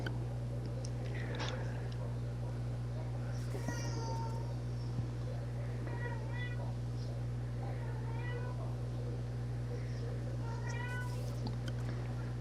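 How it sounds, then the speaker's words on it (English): A house cat named Tio meows several times in a short series of calls over a steady low electrical hum, moderately close, with faint murmuring in the room. "the cat is meowing loudly"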